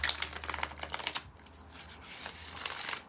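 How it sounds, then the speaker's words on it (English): A deck of tarot cards is shuffled close up, a dense run of quick papery riffles and flicks that thins out midway and then picks up again, with no one speaking. "I feel like I had to give these cards a really good shuffle."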